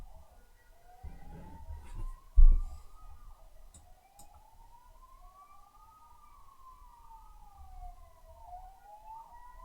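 A smooth, wailing ambulance siren sound effect rises and falls repeatedly at moderate volume during a lichess blitz chess stream, with a brief thump and faint clicks underneath.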